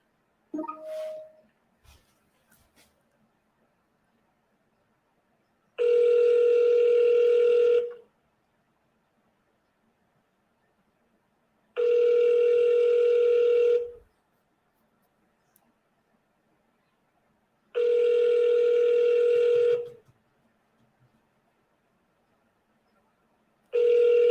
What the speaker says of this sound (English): We're going to call back. Double dial.